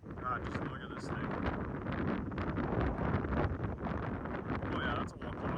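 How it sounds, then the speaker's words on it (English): Strong, steady wind buffets the microphone with a broadband roar during a storm chase near South Heart, North Dakota, as a wall cloud forms. The gusts stay loud and continuous throughout. "the wind picked up a lot for a brief minute or two there"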